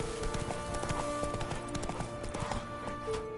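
Roach, the horse in The Witcher 3, gallops in a steady run of rapid hoofbeats, close and loud against a busy game soundtrack, with no voices.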